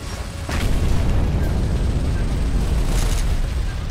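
A grenade goes off in the video game Gears of War with a deep, booming blast that rumbles on for a few seconds, loud and close.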